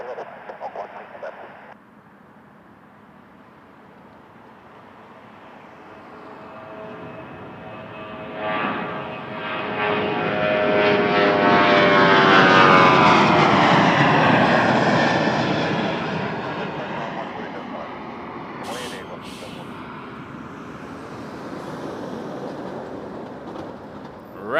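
An airliner takes off from runway 05 at Toronto Pearson Airport, its engine roar swelling from a distant hum to a loud, broad whooshing rush as it passes overhead, then slowly fading away.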